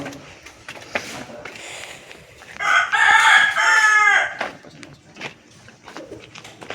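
Native country rooster crowing once, loud and close, with faint clucks and bird calls from a flock of native chickens around it.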